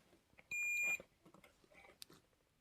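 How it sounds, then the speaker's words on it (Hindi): A multimeter gives a single short, steady, high continuity beep of about half a second while a street light circuit component is tested, followed by faint clicks and handling noises nearby. "इन जगह पे कंटिन्यूटी बीप आ रही है, इसका मतलब कुछ ना कुछ शॉर्टिंग इधर से है।"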